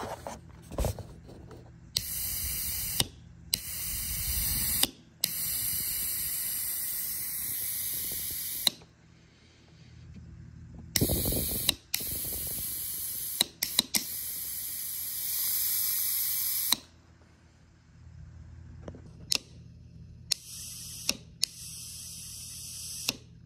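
Breath blown by mouth into a disconnected vacuum line on a broken Mercedes, making repeated hissing puffs of air of varying length separated by short pauses, close and fairly quiet, with no talking.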